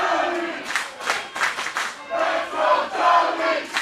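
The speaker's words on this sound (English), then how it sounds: "This crowd chanting" Wrestling event crowd in a live venue chanting in rhythmic bursts, loud and close, with shouting voices rising and falling through the arena noise.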